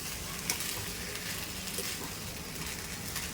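Chickpeas being mixed with spices for Mumbai-style chatpata chana chaat: a steady, soft rustling churn with a few faint clicks of a spoon, continuous throughout.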